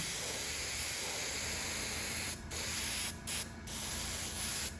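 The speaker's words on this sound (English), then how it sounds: "Pretty much airbrushing it up." Airbrush spraying green paint onto a crashed Thunderhawk model: a continuous close, airy hiss with a few brief breaks where the trigger is released.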